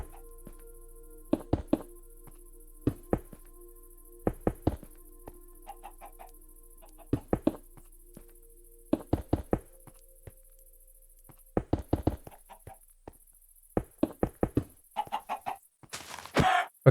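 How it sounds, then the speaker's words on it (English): Minecraft chickens cluck in short bursts of two to four clucks, separated by quiet gaps, over a faint steady background tone, ending with a brief louder rustle. "these chickens sadly need to go"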